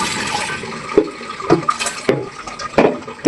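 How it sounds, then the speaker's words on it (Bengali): Water is poured in small amounts into a pressure cooker holding jackfruit seeds, giving a few short, irregular splashes and gurgles close by, with no talk. "এই যে অল্প করে পানি প্রেশার কুকারে দেওয়া কিন্তু কমপ্লিট"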